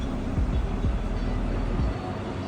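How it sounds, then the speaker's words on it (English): A Brightline passenger train rumbles steadily nearby, with low mechanical droning and rhythmic undertones, loud and continuous before easing off at the end. "This is the train we rode today."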